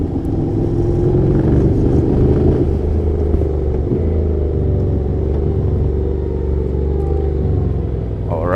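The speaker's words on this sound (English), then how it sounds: "So I was riding the Honda NC750X." A Honda NC750X motorcycle ridden on a race track, its engine droning loud and steady at close range with low rumble throughout, pitch shifting slightly as the rider holds and eases the throttle.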